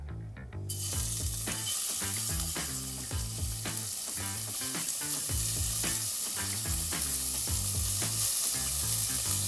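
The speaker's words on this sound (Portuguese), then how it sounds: "Agora eu vou começar a colocar aos poucos para já ir selando a carne." Cubed pork shoulder sears in a pan for a Japanese curry, a loud, steady sizzle and crackle that starts abruptly and holds throughout, with faint stirring clatter underneath.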